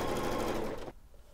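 A Janome sewing machine runs fast while stitching strip-pieced quilt fabric with a quarter-inch seam, a dense mechanical whir that stops abruptly partway through, leaving near silence.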